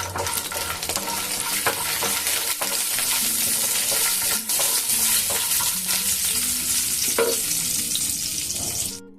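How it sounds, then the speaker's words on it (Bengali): Bori lentil dumplings frying in hot oil give a steady, dense sizzle for the whole stretch, with occasional scrapes and stirring clinks of a utensil against the pan. "তো আপনার প্রথমে ভেজে নেব আমি কতগুলো বড়ি"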